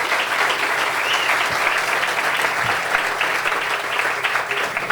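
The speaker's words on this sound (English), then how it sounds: "how about a round of applause for our unbelievable staff" A crowd at the opening of a university athletics performance center applauds the athletics staff, with dense, even clapping sustained for the full five seconds and no voice rising above it.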